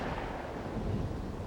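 A gunshot in a hunting video game as a hare is shot, a dense low booming burst that fills the short span at steady loudness with no pause between shots.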